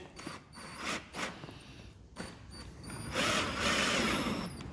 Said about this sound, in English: I am going to use an extended socket on the drill so I don't hit the metal.